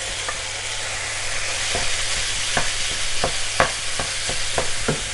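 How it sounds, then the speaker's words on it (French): Minced meat with vegetables frying in a pan, a constant close sizzle with a series of regular scraping stir strokes growing more frequent toward the end, no voices. "Je rajoute ma viande hachée."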